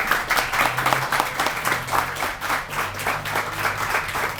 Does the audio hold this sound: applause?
yes